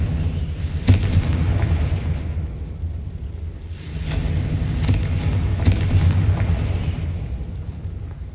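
Bombarda and Confringo spells blast in the Hogwarts Legacy video game, giving heavy booming explosions with sharp cracks at the onset. The rumbling bursts rise and fade in waves over a continuous low roar.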